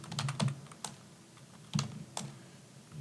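Scattered keystrokes on a computer keyboard while working at a command prompt: a few sharp, quiet clicks in small bursts with short pauses between, close by in an otherwise quiet room.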